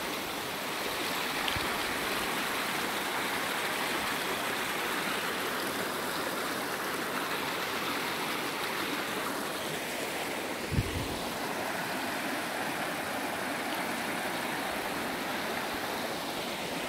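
A European river flows in a steady, loud broadband rush over its whole length, with wind buffeting the microphone and one brief low thump partway through, and no voices.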